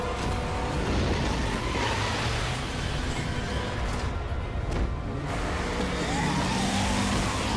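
A car engine roars continuously in the Resident Evil 2 Remake as the vehicle drives off, loud and close, with a revving surge and a brief skidding sweep near the end.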